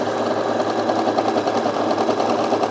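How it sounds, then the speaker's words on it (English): A single-needle overlocker stitches the edge of an ironing board cover, running in a steady, continuous mechanical whir with a fast, even rattle throughout. "we're just gonna overlock this"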